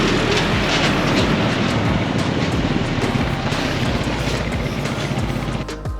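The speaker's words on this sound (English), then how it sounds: "there's often a lot of traffic along those roads" Trucks and quad bikes roll along a road through the Costa Rican surf town of Santa Teresa, making a loud, steady, close rumble that fills the whole stretch with no talking and eases slightly at the very end.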